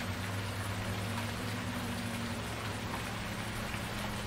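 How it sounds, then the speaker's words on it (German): Steady rain hisses continuously in the farming game Irgendwo in Thüringen, an even wash of falling drops over a low constant hum, with no talk. "Regen, Regen, Regen."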